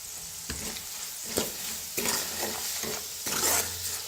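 Red chili powder masala roasts in a pan with a soft continuous sizzle, while a spoon stirs and scrapes the pan at irregular intervals up close.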